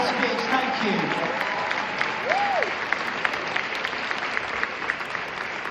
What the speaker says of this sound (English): Another round of applause for a very brave and beautiful speech.